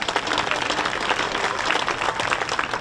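Crowd applause at a junior livestock show, steady dense clapping from many hands throughout, moderately loud and continuous with no voices on top.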